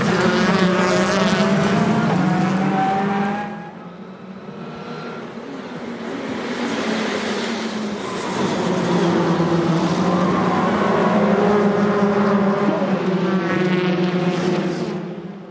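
Chevrolet touring cars race at the Salzburgring during the 2012 World Touring Car Championship, their engines roaring loudly and continuously, dipping briefly before swelling back to a sustained high-revving drone.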